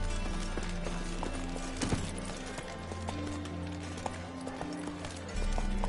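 A horse gallops in The Witcher 3: Wild Hunt, its hooves clip-clopping in a quick, even rhythm over a bed of game sound, with no talking.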